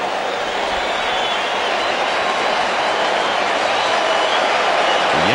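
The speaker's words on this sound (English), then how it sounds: "The Yankee portion of the crowd gets the 2-strike cheer going for Pettit." Stadium crowd of Yankee fans at a 2008 Mets game roaring in a steady, dense, continuous cheer for two strikes on the pitcher Pettitte, filling the whole stretch at constant loudness.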